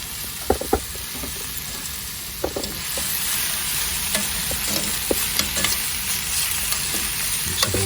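Garlic frying in a pan with softened onion, a steady bright sizzle under scraping stirs and a few sharp clicks of the utensil against the pan.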